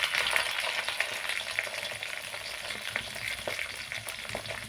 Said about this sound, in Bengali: দিয়ে দিচ্ছি কেটে ধুয়ে রাখা পটল।